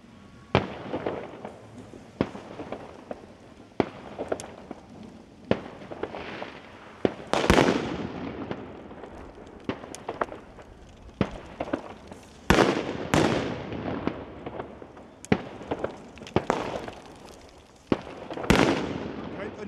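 Repeated sharp bangs and crackles of firecrackers and fireworks bursting at irregular intervals, some loud and close, others fainter, over a constant background rumble.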